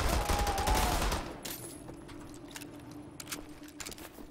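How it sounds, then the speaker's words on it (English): Pistol shots and a rapid burst of gunfire crackle in the shooter game Wolfenstein: The New Order, loud at first and then fading into scattered lighter reports. "Kill them with the pistols."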